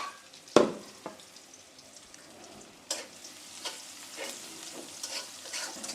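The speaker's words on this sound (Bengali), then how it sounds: "শাকটা তেলে দিয়ে একটু ঘন্ট করে নিচ্ছি, ঘুটনি দিয়ে ঘেটে নিচ্ছি।" Leafy greens fry in hot oil with garlic and onion, stirred with a wooden masher. A steady close sizzle is broken by a few sharp scraping knocks and stirring strokes, with no voices.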